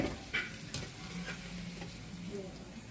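Pieces for a gooseberry (usirikaya) pickle frying in hot oil, giving a soft, steady sizzle with occasional light clinks and scrapes of a utensil, fairly quiet and without speech.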